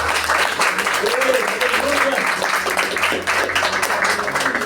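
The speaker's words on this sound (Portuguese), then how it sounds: "E se assim você crê, aplauda o nome desse Deus que Ele merece." Church congregation applauding during a Portuguese-language sermon, loud continuous clapping with voices and cheers mixed in, a low hum underneath.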